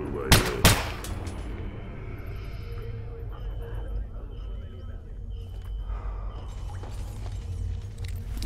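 Gunfire in a post-apocalyptic Zone survival video game, with two sharp shots near the start, then a dense, steady din of game ambience and scattered mechanical noises.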